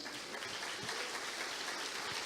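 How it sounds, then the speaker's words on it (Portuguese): Congregation applauding for Jesus during a church service, a faint and steady wash of clapping that carries on through the whole stretch with no voices over it. "Quem pode aplaudir a Jesus?"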